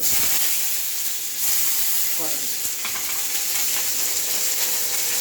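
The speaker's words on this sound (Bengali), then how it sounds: "এরপর সব সবজিগুলিকে ভেজে নিচ্ছি।" Vegetables fry in mustard oil in a wok, giving a loud continuous sizzle with occasional stirring and scraping of utensils, close and without pause.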